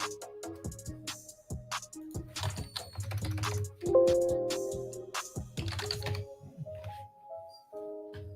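Rapid typing on a computer keyboard during live stock trading, a close, loud clatter of uneven key taps and heavier thunks in irregular bursts, with no talk.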